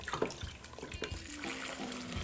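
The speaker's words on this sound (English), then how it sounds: "And then we'll add our water, which the recipe calls for 8 cups." Water pours into a stock pot holding shrimp shells for Gulf Coast shrimp stock, a close running, splashing stream with a few clanks at the start and the pour settling into a steady trickle.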